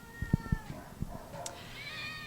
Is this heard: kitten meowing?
yes